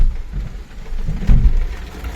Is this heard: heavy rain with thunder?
yes